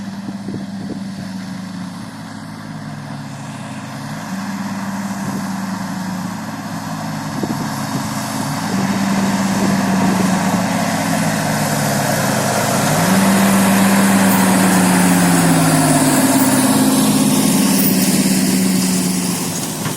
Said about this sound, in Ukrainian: Ось ми бачимо, як їде трактор з селфордом